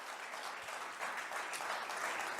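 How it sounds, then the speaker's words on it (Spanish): Spanish-language church congregation applauding, sustained, even clapping from a crowd that holds steady throughout, with no voices over it. "Fuertes aplausos a nuestro Dios."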